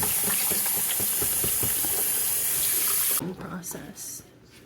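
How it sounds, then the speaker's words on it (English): Running tap water pours steadily into a sink as chicken breast strips are rinsed of milk, a loud continuous gush that cuts off after about three seconds, leaving faint handling noises. "I'm going to rinse all of this down and prepare for the next step."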